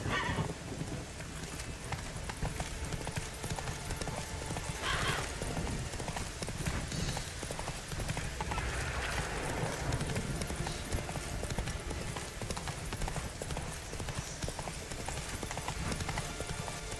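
Roach the horse in The Witcher 3 video game walks with steady hoof clip-clops under continuous outdoor game ambience, with a brief whinny-like sound partway through.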